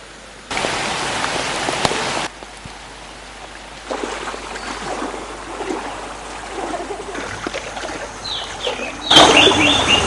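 Heavy rain in the Baddegama area of Sri Lanka, during flooding that raised the Gin Ganga's water level, hisses at uneven levels through abrupt changes in loudness, with a louder burst near the end.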